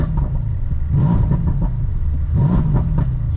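A BMW M3 engine pulls hard from inside the car while driving, a loud, steady rumbling drone that rises and falls through acceleration.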